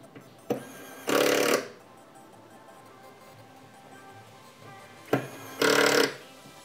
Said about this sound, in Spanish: Y ahí sigo colocando los tornillos